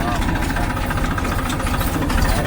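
A Mahindra Arjun Maruti 444 tractor engine running steadily and loud, a rough, chugging mid-low drone with no break, heard close up on a farm on the way to sowing.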